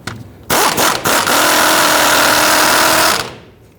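A rusty sway bar link nut on a 2000-2006 Toyota Tundra, heated beforehand, is driven off with an 18mm socket on a power tool: a loud, steady mechanical whir and rattle that runs for about three seconds after a couple of short bursts, then stops.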